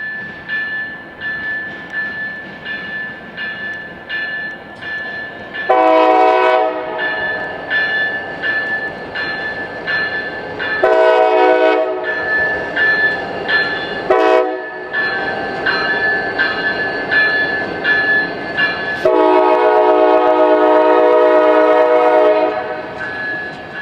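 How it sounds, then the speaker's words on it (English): A freight train led by locomotive 6578, shoving a chassis platform in a rail yard, sounds loud repeated horn blasts over a steady engine drone and rolling rumble, close by. "The train is led by the same 6578 we saw earlier"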